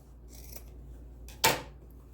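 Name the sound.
scissors cutting excess fabric of a tote bag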